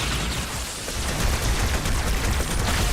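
Covenant Carbine fire in Halo 2, a steady loud barrage of energy rifle shots mixed with battle noise, continuous and close with no pauses.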